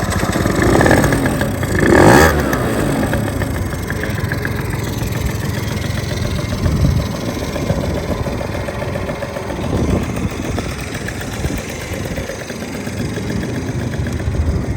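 A swapped-in two-stroke engine on a Suzuki Choinori motorcycle catches on the electric starter and settles into a steady, buzzy idle at close range, with no talk.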